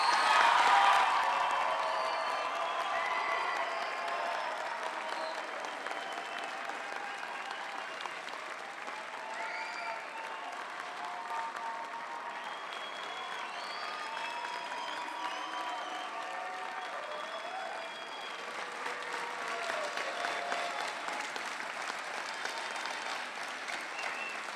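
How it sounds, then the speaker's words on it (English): A commencement audience applauds graduating master's students with sustained, fairly distant clapping, scattered cheers and whoops rising above it now and then, steady throughout with a slight swell near the end. "Let's give them a great round of applause."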